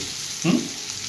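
Potatoes for aloo fry sizzle in a pan, a steady soft frying hiss with a brief louder stir-scrape in the middle, close and alone with no voices.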